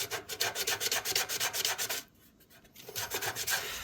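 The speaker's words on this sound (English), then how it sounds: "This is 120 sandpaper just wrapped on a piece of wood." Hand sanding wood with 120-grit sandpaper wrapped around a wooden block, blending an epoxy repair on an old cradle: a steady run of quick rasping strokes, a short pause, then more rhythmic scrubbing up close.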